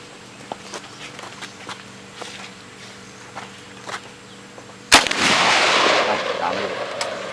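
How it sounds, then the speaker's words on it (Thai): An AK-47 rifle is test-fired at a target during an outdoor substrate test. One sharp, loud shot rings out after quiet shuffling and faint clicks, then a long rumbling echo trails away. "ต่อไปจะยิงทดสอบนะครับด้วยปืน AK47 นะครับ"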